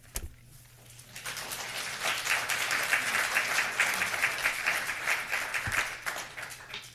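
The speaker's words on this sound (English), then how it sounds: "Hold your applause." Crowd applause at a commission meeting rises after a brief quiet start and holds steady, dense clapping from many hands filling the room for several seconds.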